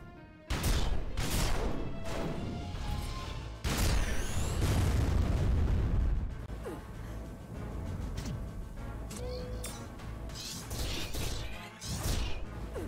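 Cannon fire at point-blank range in the Sakura Wars So Long My Love video game: several loud booming blasts and crashes with whooshes, bursting repeatedly over about thirteen seconds amid busy game effects.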